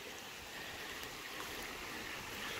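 A water faucet left running at an Ouachita Mountains campground makes a soft, continuous rushing flow. It sounds faint and steady, with no voices over it.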